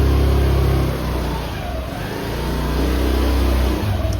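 A car engine hums steadily and close as the vehicle drives in through a gate at a house, with a low, continuous rumble that dips slightly midway and rises again, with no talking.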